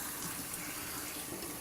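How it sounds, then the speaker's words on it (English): Tap water runs steadily from a faucet while a dog with special needs is bathed, a continuous close hiss of flowing water with no pauses. "I'm going to wait for that water to be warm before I put it on her."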